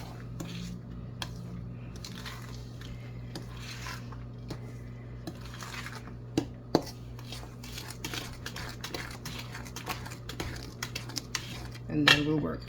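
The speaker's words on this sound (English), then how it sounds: "I just usually throw everything in, and then we start giving it a stir" Milk being stirred into a toto cake batter in a bowl, with scattered utensil clinks and soft wet scraping against the bowl, close and intermittent, with a faint hum underneath and a louder clatter near the end.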